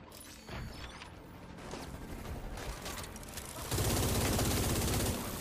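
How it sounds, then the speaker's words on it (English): Grenade launcher and other weapon fire in the video game The Division 2, heard as a dense run of mechanical bursts and shots that grows louder and rougher toward the end. "What the fuck is throwing a grenade launcher at me?"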